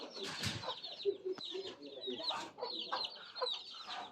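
A flock of chickens clucking and squawking close by, busy overlapping calls with a brief flutter of wings and faint voices in the background.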